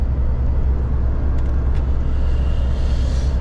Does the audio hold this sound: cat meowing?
no